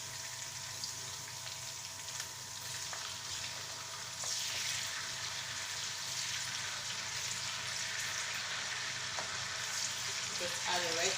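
Red pepper goes into a hot frying pan for fried rice, raising a steady loud sizzle that swells midway and keeps crackling under occasional stirring and scraping, with no one talking.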